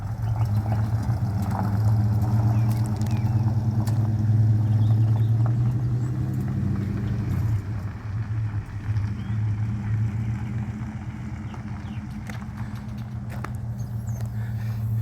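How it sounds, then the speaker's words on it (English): An old truck built on a 1972 C10 frame drives down the road, its engine giving a steady loud rumble and drone that shifts pitch partway through as it runs on continuously. "I'm going to ask Tim to drive it down the road, see what he thinks"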